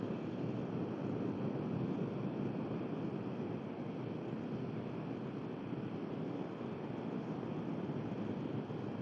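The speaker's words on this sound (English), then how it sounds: "Sorry about that noise, but I've got the air conditioning on the dash to" Air conditioning blows from a car dashboard during a highway road trip, a loud, steady broadband whoosh that runs unchanged throughout with no talking.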